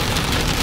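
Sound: rain falling

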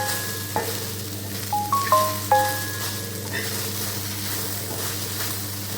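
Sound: okra sautéing in a pan with chili powder

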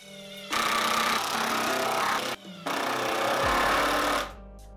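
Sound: power driver firing screws into a wooden sled base

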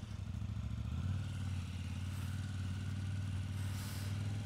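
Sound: KTM 890R motorcycle riding

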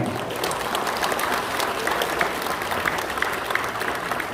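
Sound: audience applause

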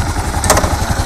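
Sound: Kawasaki KL650E motorcycle engine starting and idling

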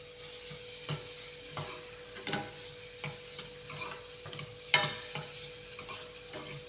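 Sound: chopped garlic and onion frying in hot oil

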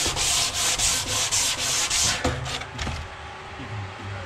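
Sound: sanding sharp edges off wood

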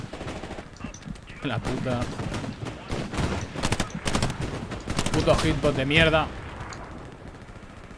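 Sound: gunfire in Hell Let Loose video game

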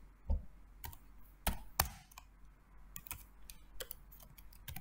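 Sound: typing on a computer keyboard

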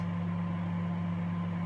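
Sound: Sharp R664WM microwave running grill function, grilling toast

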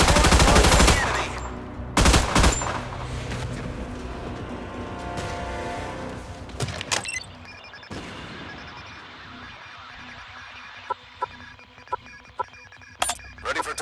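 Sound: naval gunfire in Battleship video game

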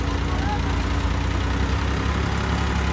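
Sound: tractor engine pulling out with silage trolley

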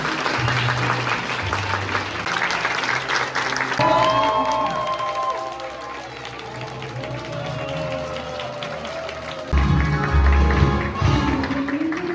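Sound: applause for a couple at a wedding

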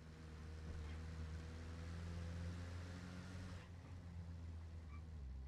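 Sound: idling Humvee military vehicle in a video game

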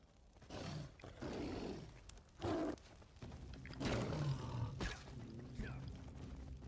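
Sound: tiger roaring in video game Far Cry Primal

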